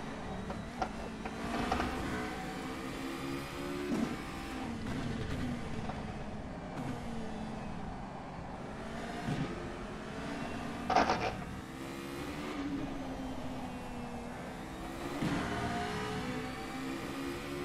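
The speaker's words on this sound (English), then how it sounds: "Comparing the sound of both cars" A continuous, buzzy Formula Renault 3.5 engine in a racing simulator at Spa-Francorchamps drones throughout, rising and falling in pitch with shifts and throttle changes, with no talking.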